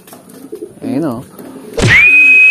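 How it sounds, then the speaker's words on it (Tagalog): Pigeons in a loft give a brief close, wavering coo, followed by a sudden loud rising whistle-like tone that holds steady to the end. "Mm, young bird."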